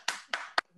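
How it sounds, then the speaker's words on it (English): Three separate hand claps from a single person with large hands, sharp and close, spaced unevenly and standing alone with no talking. "big round of applause"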